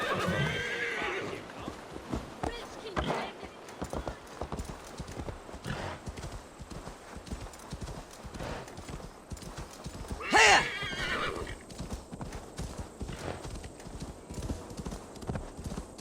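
A horse gallops in Assassin's Creed Valhalla, its steady rhythmic hoofbeats running throughout, with one short whinny partway through and someone talking over the action.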